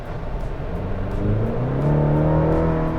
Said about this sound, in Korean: 지금 가속 페달을 깊게 한번 쭉 밟아봤는데 둥둥 하면서 빠르게 내려가는 모습을 보여줬어요